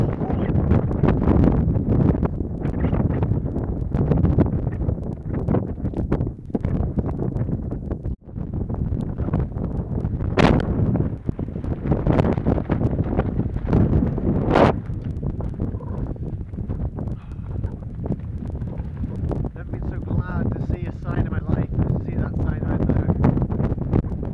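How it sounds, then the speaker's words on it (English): Strong, cold, wet gusts on the Camino de Santiago between Astorga and Foncebadón buffet the microphone with loud, continuous low roaring and rumbling, broken by occasional sharp thumps. "It's very windy, very cold now"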